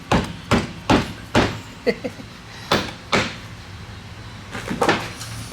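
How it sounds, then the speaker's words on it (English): On a Yamaha YZ125 motorcycle bottom end, an engine part is tapped down onto a dowel pin: close, sharp knocks come in uneven pairs and singles, about a dozen hits in all, with no voices. "Just hanging up a little on the dowel pin, so we'll just give a little tappy tap tap."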